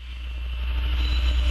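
A steady, loud rumble of a passing BNSF or Union Pacific freight train with GE Gevo locomotive engine drone and rail noise in the Columbia River Gorge, continuous throughout with no voices.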